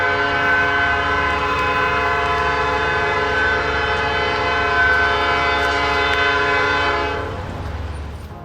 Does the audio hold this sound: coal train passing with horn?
yes